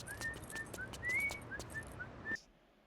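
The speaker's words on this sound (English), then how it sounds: "he even whistles the No More Heroes theme as he steps down the stairs" A video game character whistles the No More Heroes theme while stepping down stairs: a short melodic tune of about eight clear, close notes over a faint background hum, ending abruptly.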